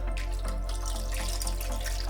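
Juice pours steadily into a Ninja Slushi machine in a continuous liquid stream, close and fairly loud, with no talking over it.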